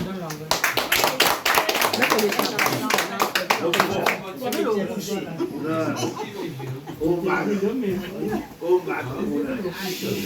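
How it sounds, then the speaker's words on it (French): Audience applause at an association presidents' sash ceremony, a dense burst of clapping from a crowd that fills the first few seconds, then thins as talk and scattered laughter take over. "Acclamons, non?"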